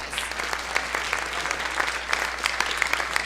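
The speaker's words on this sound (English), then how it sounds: "Let's give her a round of applause." Holiday music concert audience giving a round of applause, a dense, even wash of many hands clapping at moderate distance, steady throughout with a few louder claps poking through.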